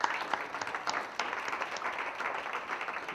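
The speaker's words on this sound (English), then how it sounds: "let's give him also a round of applause for this great, great performance" Audience applause for a performance at a corporate symposium, a dense, steady wash of clapping with a few sharper individual claps, moderately loud and continuous throughout.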